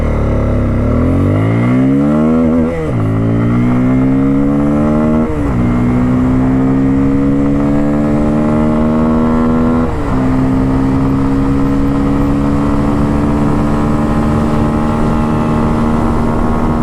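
A Bajaj Pulsar F250 motorcycle accelerates hard on a highway, its engine revving loudly up through the gears with three clear shift breaks, the pitch climbing and settling into a strong steady drone, close and without talk.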